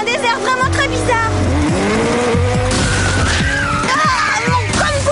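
Cartoon race cars roar around a desert racing circuit, engines whining up and down with tire squeals and skids, loud and continuous, with voices and music mixed in.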